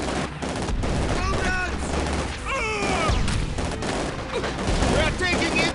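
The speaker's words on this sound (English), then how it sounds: "We are taking infantry fire!" Dense infantry small-arms fire and machine-gun bursts in the World War II strategy game Company of Heroes 2, rapid overlapping cracks and rattles throughout, with soldiers shouting over the barrage.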